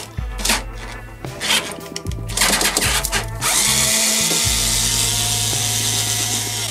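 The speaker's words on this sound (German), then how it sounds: "das Schöne ist bei diesem Mini-Bosch-Schrauber, der Sechskant vorne passt genau auf die Schrauben, die ich ausdrehen muss" A small Bosch electric mini screwdriver with a hex bit backs screws out of a Siemens IQ700 washing machine near the pump opening, whirring in short close bursts with ratcheting clicks, then running steadily for the last few seconds.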